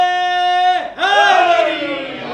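At a Shia majlis in Isleworth, London, a crowd shouts a religious slogan in unison: a sustained, loud chorus of voices with a brief dip before the chant swells again.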